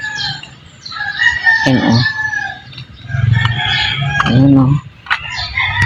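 Chickens cluck and squawk in short bursts nearby, with a person speaking briefly between the calls.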